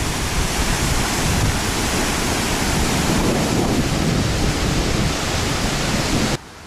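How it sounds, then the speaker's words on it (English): Waterfall on a river at an outdoor film location, a steady loud broadband rush of falling water close by, unbroken and without talk, cutting off abruptly at the end. "I'm at the other side of the waterfall now"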